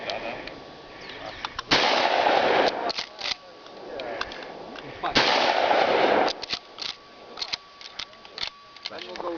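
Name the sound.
gunshots at a shooting range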